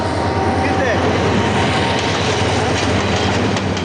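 A train passing close by, a loud, continuous rumbling roar with rail clatter and a faint metallic squeal that stays strong and steady throughout.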